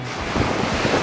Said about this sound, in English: There's a bit of wind I could do without.